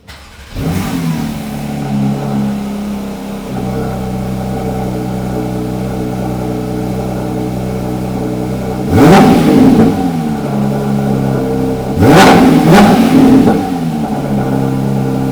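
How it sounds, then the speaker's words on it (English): Loud Porsche GT3 sports car engine idling with a steady rumble, then two sharp throttle blips revving high around the middle and near the end, heard close up with no talk. "You guys gotta hear the GT3."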